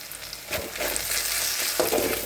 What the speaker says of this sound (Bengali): ডিমটাকে আমি ভালো করে ভাজবো সবজির সঙ্গে একসঙ্গে